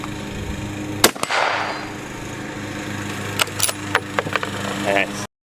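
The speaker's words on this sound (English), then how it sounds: "So Dominic's gonna shoot it again" A single loud, sharp gunshot rings out outdoors at a lead shooting plate, with a short rumbling echo after it, then quieter scattered clicks and rustling nearby.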